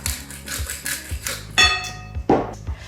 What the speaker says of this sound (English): then some generous black pepper grinding on top